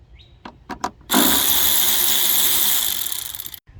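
Hand ratchet clicking a few times on an 8mm bolt in the engine bay of a 2008-2012 Chevy Malibu, followed by a sustained loud hiss or whir lasting about two and a half seconds.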